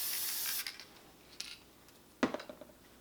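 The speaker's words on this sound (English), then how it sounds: "a few things about this spray adhesive that you need to know" An aerosol can of spray adhesive lets out one long hissing blast and then a brief second puff, followed by a hollow clunk as the can is handled, close and quiet.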